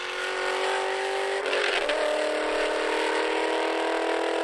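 A car engine revs high with a sharp change in pitch midway as a gear shifts, then keeps droning loudly.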